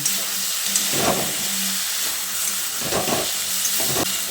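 Masala and tomatoes cook in a pan with a steady close hiss and sizzle, broken by a few soft stirring scrapes.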